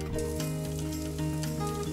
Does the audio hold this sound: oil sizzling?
yes